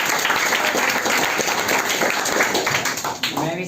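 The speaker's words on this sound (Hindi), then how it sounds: "ताली इनके लिए।" Sustained audience applause at a class 10 prize ceremony in a coaching centre, dense clapping from a crowd that runs steadily and eases off near the end, with a voice briefly heard over it.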